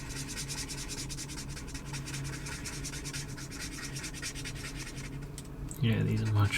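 Pens scratching and rubbing across paper while a doodle is coloured in, a steady close scratchy texture throughout, with a louder burst of strokes at the very end.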